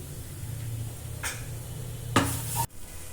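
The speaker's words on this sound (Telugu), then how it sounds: "దాన్ని కూడా వేసేసి ఉల్లిపాయలు కలిసే వరకు కలుపుకోండి" Onions frying in a pan with garlic chili powder, a low steady sizzle with two scraping stirs, the second longer and louder before stopping abruptly.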